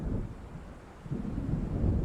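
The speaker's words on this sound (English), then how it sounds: "It seems there's a storm coming." Deep rolling thunder of a storm approaching over a lake in the video game Alan Wake, a continuous low rumble swelling again in the second half with faint wind and rain texture, no voices.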